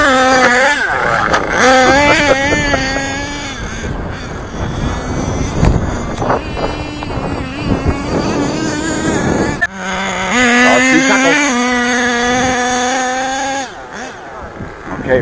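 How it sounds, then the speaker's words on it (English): Savage RC buggy driving on a hill, its small motor whining and revving in rising and falling pitches close to the microphone, with wind noise and talk mixed in. "RC Taco is driving this buggy, alias Roman."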